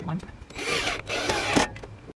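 A power drill drives screws into the short truss brackets of a Suncast BMS8100 plastic storage shed, with two close, loud whirring bursts of about half a second each and a brief ratcheting stop between them.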